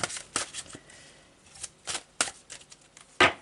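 Tarot cards being shuffled and handled at close range, with quick papery riffles and slaps in irregular bursts; no talking.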